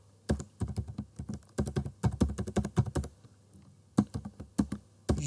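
Fast typing of C++ code on a computer keyboard, bursts of crisp close key clicks in short rhythmic runs separated by brief pauses, with no talking.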